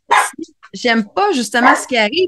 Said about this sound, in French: Désolée pour le petit chien, ça arrive des fois qu'il jappe.